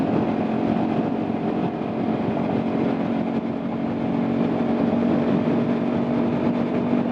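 A 2016 Kawasaki Ninja 300 on a ride around Grand Island, NY, gives a steady, loud engine drone mixed with wind noise, holding an even pitch the whole way without clear revs.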